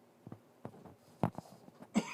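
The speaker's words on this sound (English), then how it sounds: "I'm going to spin the mic away while I cough" Several faint, short coughs in a quiet room, muffled because the microphone is turned away toward a desk surface.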